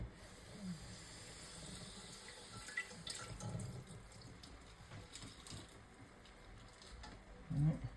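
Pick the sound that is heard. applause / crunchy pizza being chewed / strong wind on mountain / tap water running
tap water running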